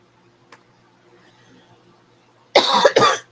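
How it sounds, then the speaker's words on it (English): A person coughs twice in quick succession, close and loud, after a brief faint click in an otherwise quiet room. "Excuse me, I did not mean to cough."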